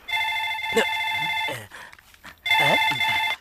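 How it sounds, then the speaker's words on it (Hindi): A telephone rings indoors in two loud bursts of electronic trilling, with people talking between and over the rings. "ललिता, तुम्हारा फोन है।"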